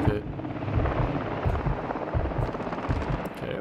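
Rapid automatic gunfire in Call of Duty: Modern Warfare 2 on Veteran difficulty, a dense rattling stream of shots with a low rumble underneath, steady and fairly loud throughout.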